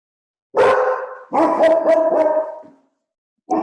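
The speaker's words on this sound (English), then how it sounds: "The dogs need to bark when you said that." Dogs barking in two bursts of several quick barks each, close and loud, with a brief start of a third at the end and no talk.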